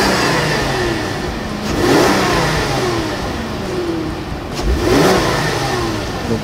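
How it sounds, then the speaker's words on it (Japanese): A Volkswagen Touareg six-cylinder engine revs twice in smooth rising swells over a steady idle, close and loud, with no talking. "しかも音綺麗なんですよ、これエンジンの。"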